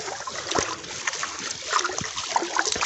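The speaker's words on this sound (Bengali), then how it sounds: "এই যে দেখতেছেন জালটা আমরা ছাড়তেছি" A fishing net is let out into a village river in Bangladesh, giving continuous splashing and sloshing of water with scattered irregular splats, close by and fairly steady.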